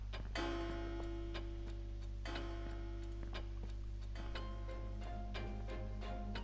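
A clock ticks steadily in the video game World of Final Fantasy, with crisp regular ticks about once per second over a low game hum and soft chiming tones.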